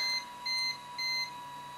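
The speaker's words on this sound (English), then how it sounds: "that beep was an error" A Zebra P320i card printer sounds its error beep after a card jams: three short, steady electronic tones in an even rhythm over a faint constant hum, close and clear.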